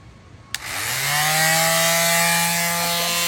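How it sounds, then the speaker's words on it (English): Power sanding of wood with 120-grit sandpaper inside a truck camper: a sander starts with a click and then whines steadily and loudly, close by, with no talking. "now I'm going to sand. Right now I have a 120"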